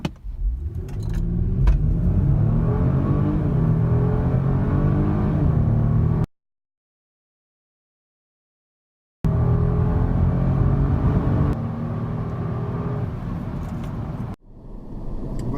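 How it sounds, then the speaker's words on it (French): A twin-turbo Kia Stinger accelerates hard from a standstill toward 100 km/h, its engine note climbing through rising gear pulls, loud and close, then cutting to silence before a second stretch of revving drive. "On va essayer une petite accélération."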